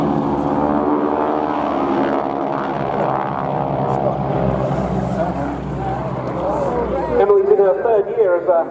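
A Boeing Stearman propeller biplane flying at an air display drones loudly and steadily overhead, its engine pitch shifting as it passes, with an announcer talking over it.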